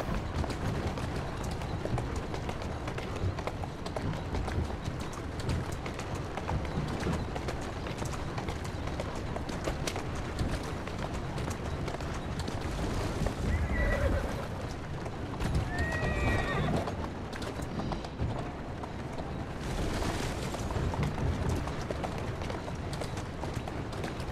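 Horse-drawn carriage hooves clip-clop steadily through a street in Assassin's Creed Syndicate, with a horse neighing and whinnying now and then over a continuous busy game background.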